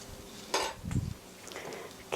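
A utensil scrapes and taps against a bowl while tomato pancake batter is mixed with olive oil, giving a few quiet, brief clinks and stirring sounds close by.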